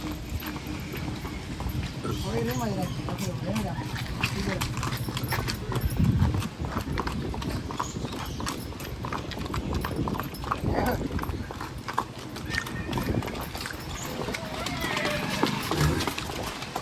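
A horse's hooves clip-clop in a steady rhythm for a long stretch, mixed with people talking and cheering and a busy background.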